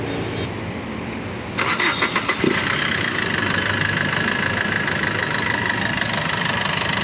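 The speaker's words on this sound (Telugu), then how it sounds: "ఒకసారి ఇంజిన్ స్టార్ట్ చేస్తాను చూడండి." A diesel engine in a 2016 Maruti Brezza ZDi+ cranks briefly, catches, and settles into a steady rattling idle that continues loudly to the end.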